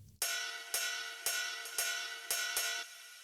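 Resampled ride cymbal sample at normal speed, sounding as a bright, washy metallic tone with six sharp repeated strikes, steady and alone at moderate level.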